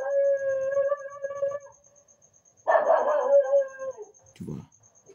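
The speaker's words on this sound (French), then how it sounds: "c'est le chien qui aboie" A dog barks and howls in a neighbourhood, a few drawn-out, tonal calls that carry clearly, followed by a short low yelp near the end, with faint background noise.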